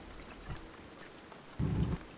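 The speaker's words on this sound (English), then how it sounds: "there's some rain" Rain falls steadily in the survival video game Dinosystem, a soft continuous hiss broken by two low rumbling thumps, the second louder and longer, with no talking.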